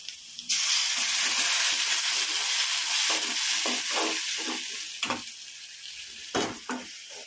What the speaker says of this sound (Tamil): இந்த தக்காளி ரெண்டு தக்காளி அரைச்சி வச்சுக்கிறோம் அது ஊற்றிக்கலாம்